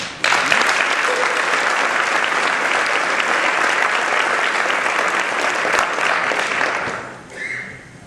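An audience applauds to welcome a speaker at a GAAP event, sustained dense clapping that starts abruptly, holds steady for several seconds, then fades out, with faint voices underneath.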